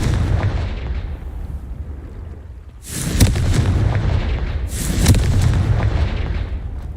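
Two heavy booming blasts from a Confringo spell in the video game Hogwarts Legacy, about two seconds apart, each a loud broadband burst with a rumbling tail over steady background noise.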